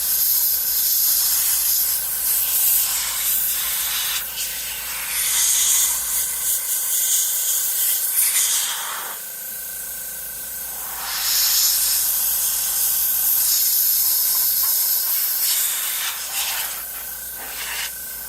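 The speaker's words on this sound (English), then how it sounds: "I'm just using the airbrush gun as an air compressor and going around and just blowing off the dust with it" A hobbyist's airbrush gun, used as an air blower to clear dust off a Queen Studios Venom statue bust, gives steady hissing bursts in several long pulses with short pauses between them, close and loud with no talking.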